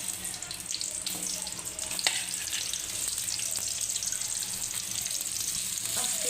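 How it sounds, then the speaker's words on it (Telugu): Onions frying in oil for a home-cooked chicken curry, a continuous close hiss and sizzle with occasional stirring clicks, steady and unbroken, no voices. "ఫస్ట్ ఇవి బాగా ఫ్రై అయ్యేలా చూసుకుంటున్నా."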